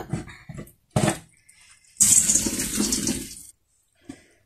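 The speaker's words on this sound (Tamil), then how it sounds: "சோறை வடிக்க போகிறேன்." Hot water from boiled rice pours through a steamer in a loud rushing gush, preceded by a few short clattering splashes and followed by a faint drip.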